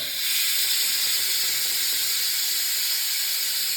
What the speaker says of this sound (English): So we have the pressure cooker. We have to make sure to release the steam out.